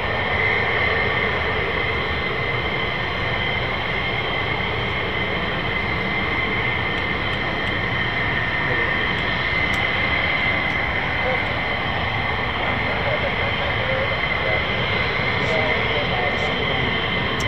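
An F-15E jet taxiing on the ground gives off a loud, steady engine roar with a sustained high whine that holds unbroken throughout and stays close.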